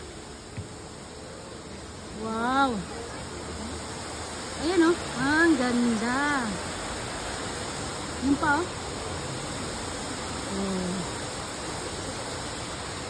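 Water flows in a steady, broadband rush at Kinomiya Shrine, continuing throughout while several people talk and exclaim over it.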